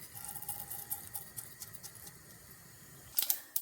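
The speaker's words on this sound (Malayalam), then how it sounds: "കടുക് പൊട്ടിയിട്ടുണ്ട്" Mustard seeds splutter in hot oil in a home kitchen pan, a fast, faint crackle of tiny pops that runs steadily, with a few sharper pops near the end.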